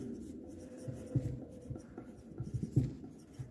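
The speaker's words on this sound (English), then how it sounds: "This information will be written with pencil only." A pencil scratches steadily across paper in a classroom, making soft, close strokes in irregular bursts with no speech over it.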